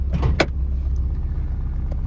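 A 1984 Dodge 600 ES engine idles steadily up close, a low even hum with a couple of brief clicks and rattles near the start.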